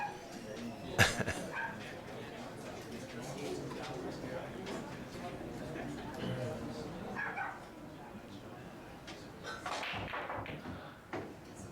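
A dog barks intermittently in the background of a pool tournament livecast, a few sharp yips standing out among thumps and a commentator's talk.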